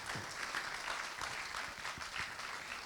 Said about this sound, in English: can we have another big round of applause, please?